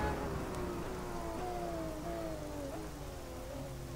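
Rain falling during a night GTE race at Road America in the rFactor 2 racing sim, a steady wash of hiss blended with the continuous drone of a car engine shifting pitch throughout.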